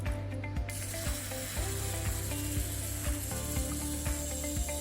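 The self-timer lever on a Pentax KM film camera winds down with a steady mechanical ratcheting, close and continuous, its regular clicks repeating throughout.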